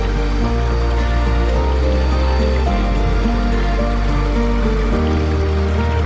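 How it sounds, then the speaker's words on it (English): Steady trickling, splashing water runs continuously at close range in a garden pond, with no voices. "And here we come to the pond area that Lisa and Marcel helped build 7 years ag"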